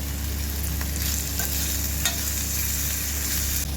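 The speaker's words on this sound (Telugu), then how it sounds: "అదే ప్యాన్లో మనం క్లీన్ చేసి పెట్టుకున్న నల్లేరు కాడ నల్లేరు ముక్కలు మగ్గుతున్నాయి" Pieces of nalleru (adamant creeper) stems cooking in a pan, a steady close sizzle with faint stirring scrapes and clicks, continuous and unaccompanied by speech.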